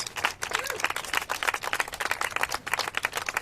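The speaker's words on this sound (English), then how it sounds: "Can I get a round of applause from everyone who is ready to ban e-cigarette flavors?" Dense, crackling audience applause at a lawmakers' event, filling the whole stretch, steady and loud with slight surges, mixed with crowd noise and possible cheering.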